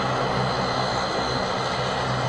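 An Airbus jet airliner with tall undercarriage, a steady engine drone with a faint whining tone, heard from a distance and continuous throughout.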